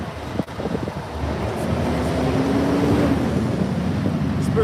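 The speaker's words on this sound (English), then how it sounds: "It start getting windy out here" Wind gusts steadily across an outdoor camp site, a broad continuous rush building after a brief dip and holding loud throughout, with a faint low tone drifting beneath.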